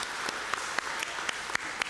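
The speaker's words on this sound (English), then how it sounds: "So let's have a round of applause for the team." Faint, brief applause from a small audience at a meeting, a soft patter of clapping lasting under two seconds.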